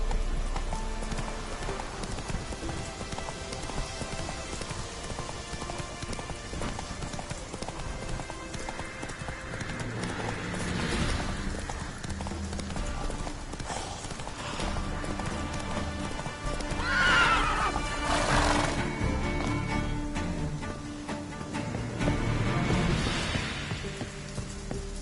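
Roach, the horse in The Witcher 3: Wild Hunt on PS4 Pro, gallops with rapid rhythmic hoofbeats. Several loud whinnies and neighs break through the running clatter.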